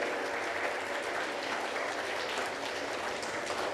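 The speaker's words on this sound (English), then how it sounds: "Let's give them a big round of applause" Steady applause from an audience at a school class event, a dense even wash of clapping held at constant level throughout with no pauses.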